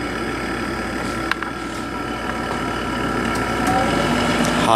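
A 1997 Sharp window air conditioner runs on its high fan setting, giving a steady, loud broadband whoosh of airflow over a low compressor hum that holds constant, with one brief click near the start.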